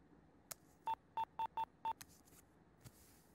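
A telephone number is being dialed: five quick touch-tone beeps in an irregular rhythm, faint and close, with a few soft clicks around them and no speech.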